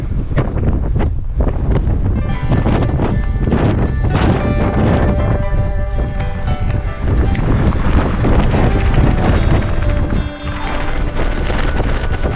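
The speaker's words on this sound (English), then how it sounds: "Man, it's windy." Strong wind roars over the Appalachian Trail near tree line on the way to Mt. Katahdin, buffeting the microphone loudly and continuously with no letup.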